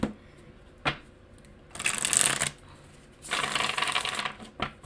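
Everyday Witch Tarot cards being shuffled by hand in three bursts of crisp, riffling flutters: a short one early, then two longer, louder spells separated by quiet pauses, with a soft tap or two between them.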